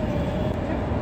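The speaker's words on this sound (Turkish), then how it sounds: "Trene bindik, anneanneye dedeye gidiyoruz." Inside a moving passenger train, a steady, loud broadband rumble of wheels and carriage noise fills a brief moment without pause.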